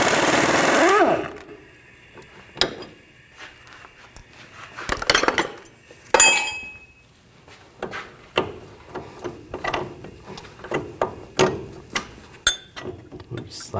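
A 21mm wrench and socket work a lower control arm bolt loose on a 2007-2014 GMC Sierra 3500 HD, giving sharp metallic clicks and ratcheting taps in an irregular series after a brief burst of noise at the start.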